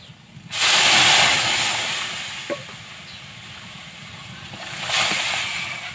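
Lentils (dal) hit hot spiced oil with ginger and burst into a loud, close sizzling hiss that gradually settles, then swells again briefly.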